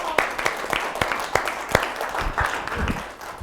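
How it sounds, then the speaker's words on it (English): Applause closes an education seminar, sharp separate claps from a small group at an uneven pace, fairly close, with some voices chattering beneath. "so wild round of applause for all of us"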